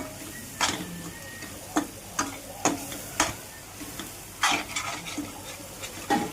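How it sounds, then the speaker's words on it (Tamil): Egg masala is stirred in a pan so it won't stick, with a spoon scraping and tapping the metal in irregular strokes over a faint sizzle, close by with no talk. "அடி பிடிக்காத மாதிரி கிண்டி விடணும்"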